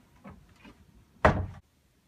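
A house door is shut and locked: a few soft shuffles and clicks lead to one louder close with a thud and short rattle, then silence.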